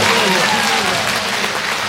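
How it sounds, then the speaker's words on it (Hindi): A crowd at a workers' union foundation day celebration in Arunachal Pradesh applauds loudly and continuously, a dense, close wash of clapping filling the whole moment. "अरुणाचल प्रदेश को देते जोरदार तालियों से बधाइए।"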